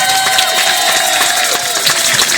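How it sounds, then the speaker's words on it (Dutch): A carnival crowd at a Dutch Limburg carnival society event cheers and applauds for the youth prince and princess, a dense, continuous wash of clapping and shouting with whistles cutting through. "Geef ze een hartelijk applaus"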